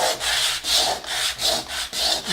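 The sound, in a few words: sanding dried paint on a wooden board with sandpaper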